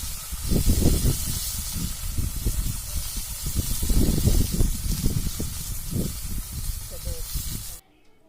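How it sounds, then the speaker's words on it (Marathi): Chopped dill greens stir-fried in a pan with green chillies and garlic for shepuchi bhaji, a steady loud sizzle running throughout with repeated scraping and stirring knocks, stopping abruptly near the end. "मिरची परतल्यानंतर त्यामध्ये कापलेली शापूची भाजी घालून घ्यायची आहे"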